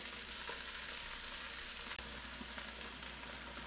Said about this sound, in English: As you can see, all the vegetables are in there. They're cooking down.